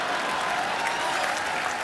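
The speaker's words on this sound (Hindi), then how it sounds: "जोरदार तालियां।" Studio audience applause on a Hindi TV comedy show: dense, steady clapping from a large crowd, loud and sustained without a break.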